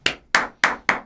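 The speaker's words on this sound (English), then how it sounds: "round of applause" Four sharp, evenly spaced claps ring out in quick succession in a media room during a Blitzball postgame show, each crisp and close, with silence in between.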